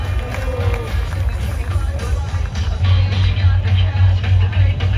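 A crowd at a vert ramp skateboarding final in Montréal roars and cheers after a skater's run, a dense, sustained wall of cheering and clapping that grows louder toward the end, with an announcer's voice over it.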